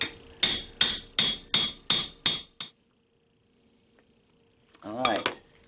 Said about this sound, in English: just when you think you're done peening, peen a little bit more